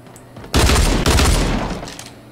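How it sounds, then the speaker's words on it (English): Gold-handled dual pistols fire in Fortnite Battle Royale as a loud, dense volley of shots that blur together for about a second and a half before trailing off. "Dual pistols."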